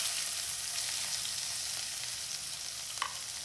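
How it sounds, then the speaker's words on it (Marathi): Finely chopped onion fries in a few spoons of oil for a Kolhapuri chicken masala, a soft, steady sizzle with a light stir and clink near the end. "तर आता बारीक चिरलेला कांदा घालून घेऊया."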